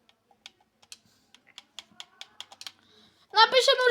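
Keys on a computer keyboard tapped in a quick irregular run of clicks, close and clear, ending as a person starts talking.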